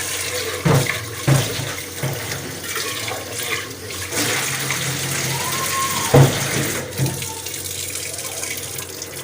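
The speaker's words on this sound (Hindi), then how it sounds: "प्रेशर कुकर में वॉश आप देख सकते हैं। इसको करेंगे वॉश।" Water runs and splashes as beef is rinsed in a pressure cooker, a steady close gush broken by a few louder clunks of the pot.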